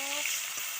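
Bitter gourd slices fry in hot oil in a wok, a steady close hiss of sizzling that lasts only a moment.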